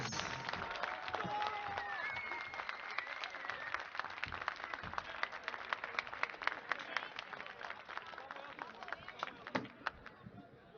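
An audience applauds the Turkish CSGO world champions after their final against Argentina, a long, dense wash of clapping with scattered sharp claps and faint crowd murmur throughout.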